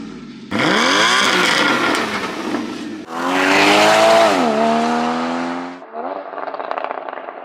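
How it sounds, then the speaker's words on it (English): A Porsche 981 GTS with the valved Porsche Sport Exhaust drives by loudly, with two rising engine pulls and revving passes and then a quieter, throaty stretch. No one speaks. "the blacked out Porsche Sport Exhaust PSE with the valves. It sounds insane."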